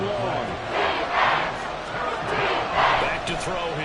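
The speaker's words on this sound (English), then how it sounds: "This crowd turning up the decibel level." Stadium crowd in the Madden 24 football video game, a dense, loud roar that swells twice in waves, with commentary talk over it.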